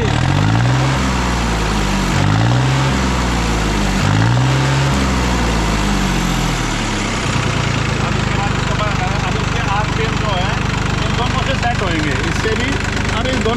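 A tractor diesel engine with an inline injection pump runs at low RPM with an RPM-drop fault, knocking in a heavy rhythmic chug that later settles into a smoother, steady idle, loud and close, while a person talks over it.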